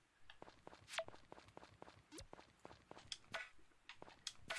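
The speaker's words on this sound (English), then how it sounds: "I just wish they recorded more than one footstep sound" Repeated footstep sound from the farming game Story of Seasons: Friends of Mineral Town, the same single step sample replayed regardless of surface, ticking steadily and fairly quickly in an even walking rhythm at moderate volume.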